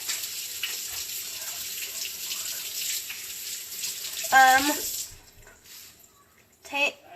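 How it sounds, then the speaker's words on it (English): Tap water runs steadily into a kitchen sink while hands are washed under it, a close hiss for several seconds, broken by brief high voiced sounds, then the flow stops with a short squeak near the end. "I wash my hands"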